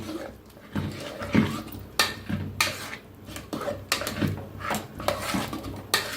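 Cooked dal being mashed in its cooking pot, heard as a close series of scraping knocks and clattering metal strokes in an uneven rhythm, fairly loud, with no speech.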